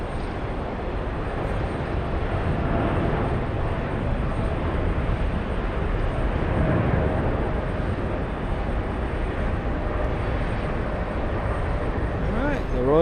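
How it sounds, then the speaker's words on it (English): A Royal Jordanian Boeing 787 Dreamliner taking off, a broad steady engine roar with a low rumble holding evenly throughout, heard from a distance under some background noise. "the Royal Jordanian Dreamliner lifting off for what is sure to be a fairly long flight to Amman, Jordan"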